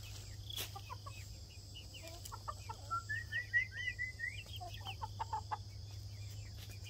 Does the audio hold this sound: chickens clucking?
yes